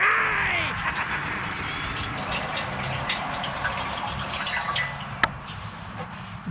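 Antifreeze gushes steadily out of a Detroit Diesel engine, a continuous close splashing pour with a few sharp drips, while people talk over it.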